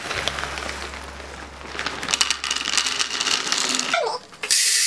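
Dry navy beans poured out in a steady rattling stream, a dense patter of hard little beans striking a surface and scattering, close and fairly loud, ending abruptly.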